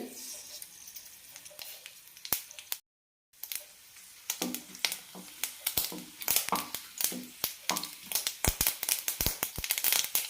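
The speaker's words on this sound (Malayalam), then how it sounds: "കടുക് പൊട്ടിക്കഴിയാനാകുമ്പോൾ കടലപ്പരിപ്പും ജീരകവും ചേർക്കാം" Mustard seeds with dried red chillies pop in a tablespoon of hot sunflower oil in a pan while poori masala is being cooked. A steady sizzle is broken by dense, sharp crackling pops that grow busier, with a brief dropout near the start.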